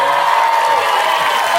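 Studio audience applauding and cheering at a late-night comedy news segment, a dense, steady wash of clapping and crowd noise holding loud throughout with no talk over it.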